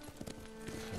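Horse hooves clip-clopping at a steady riding pace in the video game Ghost of Tsushima, close and moderately loud, with a faint musical tone underneath.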